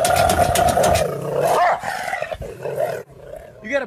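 A wild dog growls and barks loudly and up close, a rough continuous snarl breaking into sharper yaps, with a voice briefly heard near the end.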